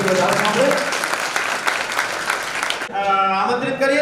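Applause fills a crowded Purnima celebration gathering led by a mahant, with dense, sustained clapping. The clapping then gives way abruptly to amplified speech and music over the loudspeakers.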